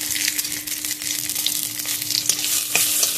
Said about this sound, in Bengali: মাছের মাথা ভাজার ওই তেলেই জিরে, শুকনো লঙ্কা আর তেজপাতা ফোড়ন দিয়ে দিলাম।